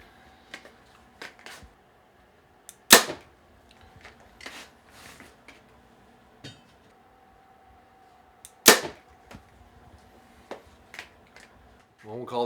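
A Mathews Lift X 29.5 compound bow is shot twice, each release a sharp loud snap with a brief thump, separated by quiet stretches of faint handling clicks and shuffling.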